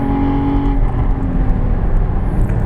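A 2016 Porsche Cayman GT4 is driven hard on a race track at The Ridge, its engine a loud, continuous, dense roar that stays near and steady throughout.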